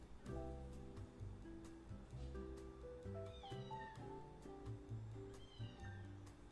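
Ollie the cat, shut in a cage, lets out a series of plaintive meows that rise in pitch, heard over continuous music and game audio.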